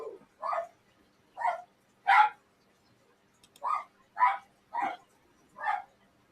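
A dog barking somewhere in the background, around eight sharp, evenly spaced barks at moderate distance, alone with no talk over them.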